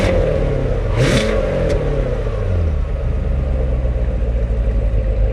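A Corvette idles in stealth exhaust mode with a low, deep exhaust rumble, steady and close, with a brief rise early on and no talking.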